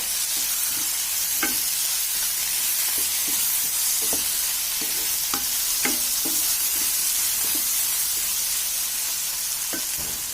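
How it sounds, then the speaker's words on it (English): Steady loud sizzling of yellow pumpkin curry frying in a pan, with intermittent scraping clinks of a utensil stirring through it. "I'm going to give it a stir"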